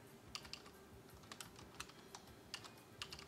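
Computer keyboard keys tapped at a steady, moderate pace while entering text in After Effects, with a dozen or so distinct close clicks over a faint background hum and no voice.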